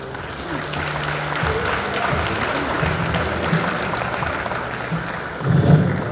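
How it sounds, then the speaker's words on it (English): Applause rises from the audience at a banking institute event in a hotel hall, a continuous crowd clapping at moderate level with some low background murmur, swelling slightly near the end. "Thank you for that applause in response to that beautiful theme"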